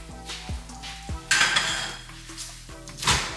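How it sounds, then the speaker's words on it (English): A small frying pan is handled in a home kitchen while onions are about to be sautéed. Sharp metallic clanks and knocks of cookware sound up close, with a soft sizzle and scraping between them and no voices. "I'm gonna use this little pan right here."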